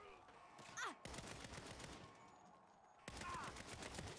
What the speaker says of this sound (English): You see me shooting them.